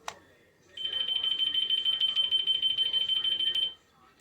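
A small key finder tracker tag emits a steady, rapidly pulsing high electronic beep for about three seconds, fairly close and clear over a quiet room, after a brief click.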